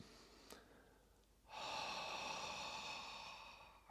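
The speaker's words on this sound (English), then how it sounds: "creating a subtle constriction in the back of the throat. So you're slightly activating the vocal cords, and it makes a sound." A single long Ujjayi yogic breath with the throat gently constricted gives a soft, hollow ocean-like rasp that starts abruptly after a quiet lead-in and holds steadily for over two seconds, close to the listener.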